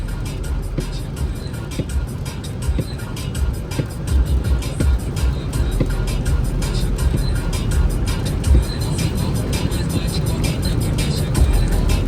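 Hyundai IONIQ 6 electric car cruising on a highway at speed in cold weather, giving a steady cabin rumble of road and tyre noise with wind, continuous throughout, with occasional speech over it.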